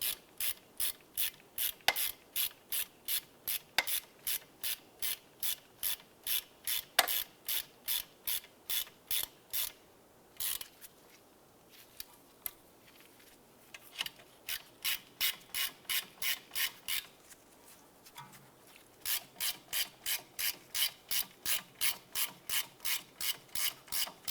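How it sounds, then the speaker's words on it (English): A hand ratchet snugging the rear hub assembly bolts on a 2006–2011 Cadillac DTS, clicking in long rapid runs of even strokes, close and fairly quiet, with brief pauses and some rubbing noises between runs. "I'm going to go ahead and snug these bolts down"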